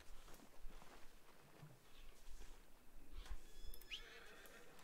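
A horse in the video game Red Dead Redemption 2 gives a brief whinny, with soft hoof steps and quiet game ambience around it, faint and at a moderate distance.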